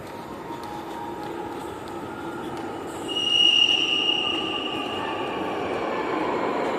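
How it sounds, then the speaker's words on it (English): Subway train pulling into a Guadalajara metro station. A low rolling rumble builds, then a high metallic wheel squeal rises and fades as it nears, with no talking. "Here comes the train."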